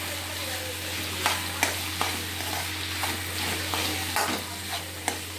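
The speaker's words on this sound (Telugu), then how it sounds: "కారం యాడ్ చేసిన తర్వాత దీన్ని బాగా అటు ఇటు పెట్టుకోండి" Capsicum with chilli powder fries in a pan, its continuous sizzle punctuated by repeated spatula scrapes and taps as it is stirred.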